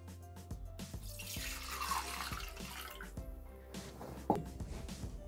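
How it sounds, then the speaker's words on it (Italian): Water poured into a Thermomix mixing bowl before salt and oil go in for a polenta cake: a faint, steady trickle with scattered drips and small clunks, quiet and close, with no talk. "Iniziamo la ricetta mettendo all'interno del boccale l'acqua"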